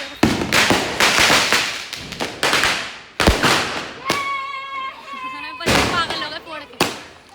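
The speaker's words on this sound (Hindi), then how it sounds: "स्काई शॉट की पेटी फुरवा रहे" A box of sky shot fireworks fires during a Diwali celebration, a rapid series of loud booming launches and crackles with whistling tones, close by, with people's voices mixed in.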